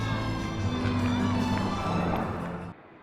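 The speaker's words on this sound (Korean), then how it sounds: "관람객들은 환호를 보냅니다" A crowd of spectators at an air show in the Philippines cheers and shouts as the Black Eagles aerobatic team flies in formation, a loud sustained roar of voices that drops away abruptly at the end.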